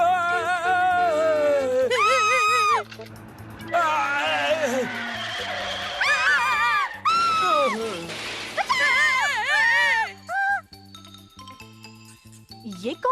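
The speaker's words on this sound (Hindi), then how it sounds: "ये कौन चिल्ला रहा है?" Cartoon screaming in an animated Ninja Hattori episode: high, wavering shrieks that rise and fall, repeated in bursts over music and effects, with short gaps between them.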